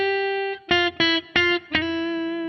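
An electric guitar with a distorted, reverberant tone plays a brief melodic motive: one sustained note, then four crisp plucked notes in a steady rhythm, the last one ringing out alone.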